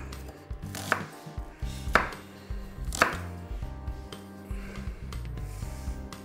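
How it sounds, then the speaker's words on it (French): A knife finely slices half an onion on a cutting board, giving close, crisp chopping taps at an uneven pace, some strokes sharper than others, over a faint background tone with no talk. "émincer assez finement un demi-oignon"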